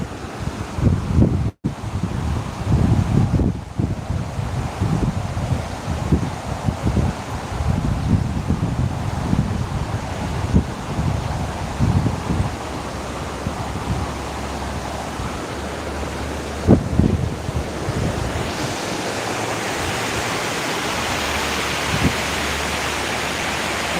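A steady broadband rush of the flowing Ghataprabha river, with gusts of wind buffeting the microphone throughout and no voices.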